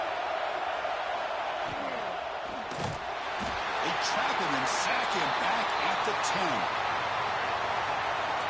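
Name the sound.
loud stadium crowd cheering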